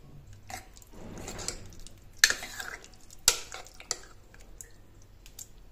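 A spoon stirs okra and green pea sambar in a pot after coriander goes in, giving soft scraping and a few sharp clinks against the metal, close and moderately loud, with no talking.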